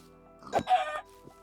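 Chickens in a video game give a single short cluck-like squawk, near and distinct, over a low steady background.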